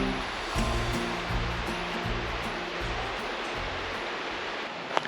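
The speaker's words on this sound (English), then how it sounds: "I can hear the water." Mountain stream water rushing steadily below a campground, a dense, even hiss of flowing water that holds constant throughout with no voices.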